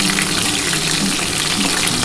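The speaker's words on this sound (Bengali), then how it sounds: "আমি পটল আলুকে একসাথে ভাজবো, একটু লাল লাল করে ভাজবো" Pointed gourd and potato pieces frying together in oil in a pan, a dense, steady, close sizzle and crackle throughout with no voices.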